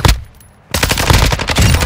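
Gunfire in the video game Warzone 2.0, a loud burst of rapid shots that breaks off briefly, then resumes as a dense, close volley.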